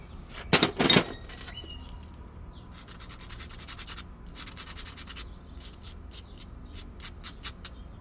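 Faint, close scratchy grinding on the edges of a stone arrowhead knapped from a waste flake, with a short louder scrape at the start followed by intermittent rasping strokes.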